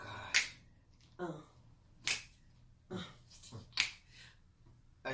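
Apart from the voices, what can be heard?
finger snapping a beat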